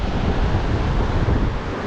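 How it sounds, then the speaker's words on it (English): Pacific Ocean surf breaking on the beach at La Push, Washington, a loud continuous wash of waves mixed with wind rumble, no voices. "this is the easiest way to see the ocean here"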